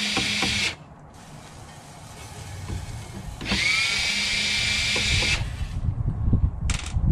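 A power drill backs screws out of the stand on the back of a computer monitor being scrapped, in a few short bursts of close, whining motor with faint clicking and handling noise between them.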